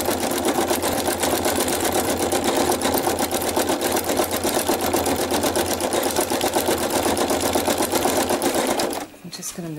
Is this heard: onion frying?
no